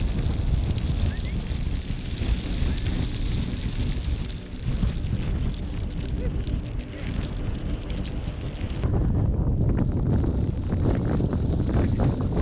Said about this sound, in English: It's so windy, I don't know if you can hear me.